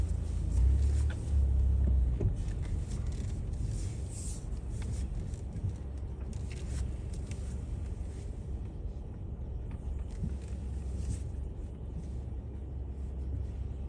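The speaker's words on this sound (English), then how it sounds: "I'll back right up into there." Car reversing into a parking spot in a Louisville, Kentucky neighbourhood, a low steady engine rumble with a brief louder push near the start, then a quieter idle-like drone with faint background noise and no talk.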